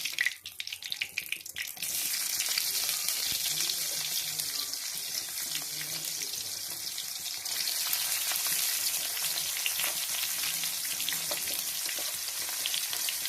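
Onion and garlic sizzle steadily in a hot pan after cumin and bay leaf, a loud continuous frying hiss that starts after a brief clattering moment and runs unbroken to the end.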